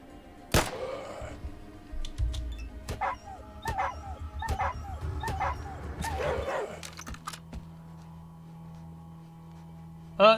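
A dog in the video game Atom RPG gives a few short barks and yips followed by whimpering, moderately loud over faint game ambience.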